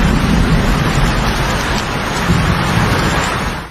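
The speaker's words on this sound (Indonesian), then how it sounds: "Tanpa perlengkapan apapun, Jen bertahan dari dinginnya malam disertai hujan." Rain pouring at night on a remote island shore, a loud, dense, continuous hiss with low rumbling underneath, steady until it cuts off at the end.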